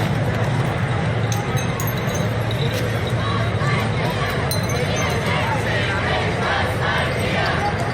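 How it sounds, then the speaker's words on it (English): Glass bottles clink and smash amid a shouting crowd facing police at a G20 Hamburg protest, with sharp, scattered impacts over constant roaring voices and babble. "More bottles are being tossed."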